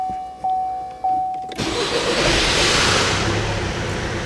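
A 2015 Vauxhall Mokka with a repaired rear end, 64,000 on the clock, starts after a couple of short starter beeps, then a loud broadband engine roar settles into a steady idle, close up.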